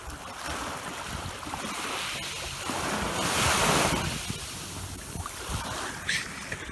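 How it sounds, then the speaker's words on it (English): Ocean waves surge and wash over a stony shore on an unspoiled beach at Twofold Bay, New South Wales, a broad rushing swell that builds to a loud peak midway and then recedes, with steady wind buffeting the microphone and no talking. "Listen to this wave now."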